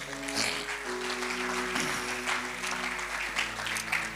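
A church congregation applauds, a dense steady wash of clapping lasting several seconds over a sustained organ or keyboard chord.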